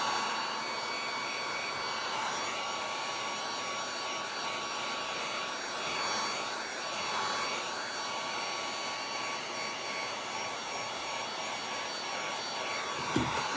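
A heat gun blows hot air onto a painted picture frame in a steady, continuous whoosh lasting well over ten seconds, with no speech over it.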